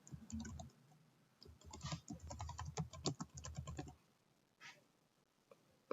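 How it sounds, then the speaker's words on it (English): Keystrokes on a computer keyboard, typed while a slide title is entered in PowerPoint or Google Slides: a burst of quick, fairly close clicks for about four seconds, then quiet with a few scattered taps. "So I'm going to left click where it says click to add title and type"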